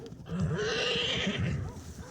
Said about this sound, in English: He's running like a young colt would.